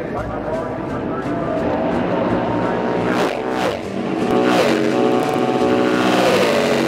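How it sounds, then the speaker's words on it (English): Racing motorcycles roar on the track at Road America, with a loud, continuous engine blare that swells as bikes pass. A voice talks over it. "This would be Shawn's first time on the bike"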